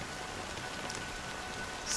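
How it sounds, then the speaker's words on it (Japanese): Steady rain falls in the video game Honkai Star Rail, an even hiss that runs throughout at moderate volume, with no other sound rising above it. "雨はまだ止んでいない。"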